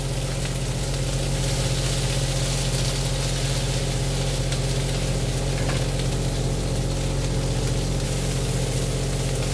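Okra frying in oil in a pan while tofu is cooked alongside for a tofu, eggplant and okra dish, giving a steady, loud, continuous sizzle mixed with a low constant hum throughout.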